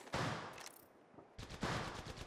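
Enemy automatic gunfire in the Apex Legends Mobile battle royale game, two loud sustained bursts of rapid shots with a short lull between them, close and dense.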